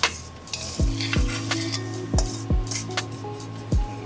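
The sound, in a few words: macaroni tipped into greased baking dish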